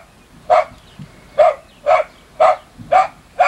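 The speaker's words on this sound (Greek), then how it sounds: "Ο σκύλος γαυγίζει" A dog barks six times at a steady, evenly spaced rhythm, each bark loud and close, with quiet pauses between them.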